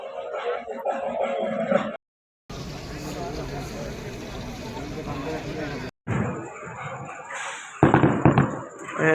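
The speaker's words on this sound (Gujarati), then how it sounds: "ફટાકડા ફોડવા માંડ્યા ભાઈ." Bursts of crackling firecrackers pop and rattle in a dense stretch, with people talking before and after, fairly distant and moderately loud.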